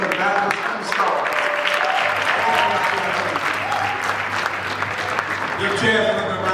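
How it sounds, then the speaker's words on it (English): Audience applause for Chaz at a Black History Month celebration, with a steady wash of clapping from a crowd that holds for several seconds and swells again near the end, amid some background voices. "Give Chaz another round of applause"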